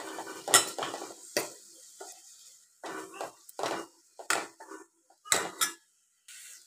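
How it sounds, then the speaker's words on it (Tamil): Onions sautéing in a pan for baby corn gravy while a utensil scrapes and stirs in short, repeated bursts, close and fairly loud. "நல்லா வதக்கிக்கோங்க."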